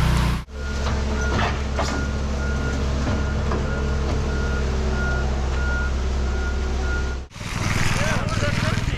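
A truck reversing on a big residential driveway job sounds a steady run of backup beeps over a loud diesel engine rumble, with a brief break near the end, and no talk over it.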